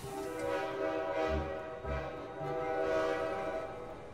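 A train horn sounds in the Irony Curtain video game, with a sustained tonal blare over steady rumbling rail noise, loud and continuous for about four seconds.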